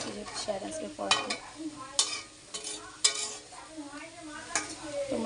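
Banana stem (thor) frying in a pan, with a soft sizzle beneath repeated scraping and clinking spatula strokes against the metal, close and uneven in rhythm.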